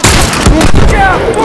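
Bomb blasts in The Last of Us Factions online multiplayer, loud dense booms and crackling gunfire packed into a chaotic burst, with a player's voice shouting over the battle.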